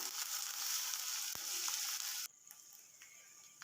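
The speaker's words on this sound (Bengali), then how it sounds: "পেঁয়াজ বাটাটা দিয়েও একটু ভেজে নেব। এখন রসুন বাটাটাও দিয়ে দেব" Onion and garlic pastes fry in a pan with a steady, loud sizzle for over two seconds, then the hiss drops sharply to a quieter simmer with a few soft clicks of stirring.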